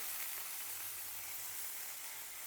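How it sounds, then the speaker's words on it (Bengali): Cauliflower florets frying in hot oil for singara give off a steady, even sizzle from start to finish. The sound is close and fairly quiet, with no voices over it. "এবার এটাকে কপিটাকে একটু লাল লাল করে ভেজে নেব"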